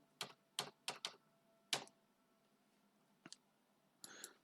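A command is typed on a computer keyboard: quiet, close keystrokes come in a quick burst of five, then a single tap, a brief double click and a final softer rattle of keys.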